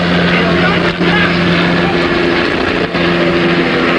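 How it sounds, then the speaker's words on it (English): A police helicopter thrums loudly and continuously overhead on amateur videotape audio, a steady rotor drone with a faint tonal hum that never lets up across the stretch. "removed a portion of the helicopter sound"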